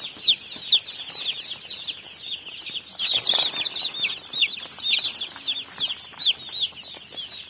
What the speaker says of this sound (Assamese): সুন্দৰ পোৱালি আহিছে গাইস।